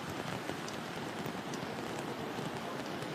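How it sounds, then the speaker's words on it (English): Heavy rain pours down steadily on a golf course during a women's professional tournament in Andalucía, Spain, a dense, even hiss of drops close around with no voices. "this is a downpour and this course is close to going under"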